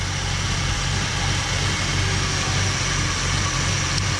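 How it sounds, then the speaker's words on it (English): A Ford 289 V8 in a 1967 Ford Galaxie 500 idles nearby during its first start and break-in, with a steady, low, throbbing rumble, continuous and even throughout, with no voices. "I'm stoked I got this engine started."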